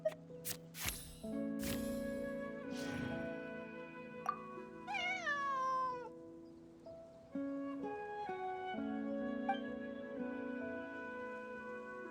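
A cat in the video game Genshin Impact gives a single clear, rising-and-falling meow over soft background game music.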